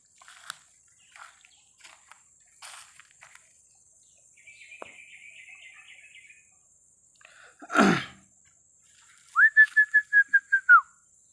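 Birds call in a forest with scattered faint chirps, a buzzy trill, one loud sudden burst, then a run of six clear whistled notes close by, against otherwise quiet surroundings.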